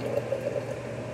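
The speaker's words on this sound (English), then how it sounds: "I'm gonna put coconut water in there." Coconut water pours into a mug in a brief, faint, bubbly trickle of liquid that lasts about a second.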